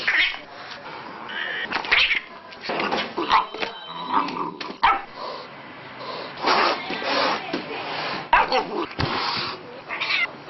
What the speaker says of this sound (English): Inevitably, with so many cats vying for attention, life at the shelter can sometimes be turbulent and chaotic.